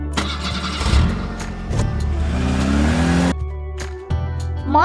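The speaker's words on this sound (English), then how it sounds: "Jeep." A jeep engine cranks and catches, then idles and revs upward in a rising, loud roar for about three seconds. It cuts to a lower steady hum before a final brief rev.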